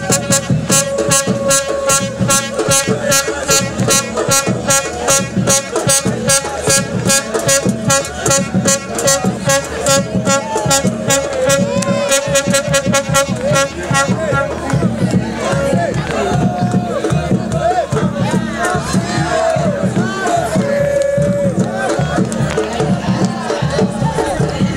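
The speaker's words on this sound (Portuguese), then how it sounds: "A festa da torcida Simões Filense." Simões Filho supporters at Arena de Santos during a football match against Camaçari create a loud, continuous din of crowd noise with blaring horns and rhythmic chanting, fading into looser cheering and calls toward the end.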